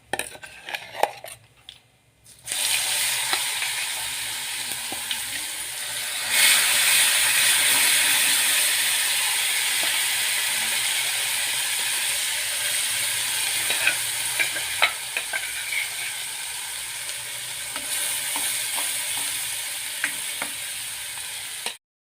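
Ground spice paste sautés in hot oil over an asafoetida tempering for udid dal ghute. A steady, loud sizzle rises after a brief quiet start, with the clatter of a spoon stirring against the pan throughout.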